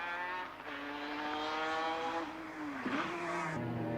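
Mazda RX7 race car at Mount Panorama, its engine note stepping down through the gears under braking, with a loud, close rotary howl and a sharp pitch drop near the end.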